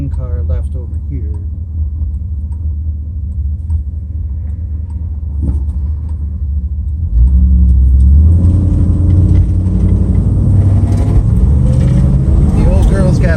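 A 1958 Chevrolet Impala California Coupe accelerates from a low idling rumble into a louder, deeper engine roar heard from inside the car, with people talking over it.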